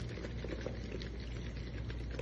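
Chilies tumbling in vinaigrette inside a lidded plastic take-out container as it is shaken, a close, continuous sloshing patter of liquid and pieces.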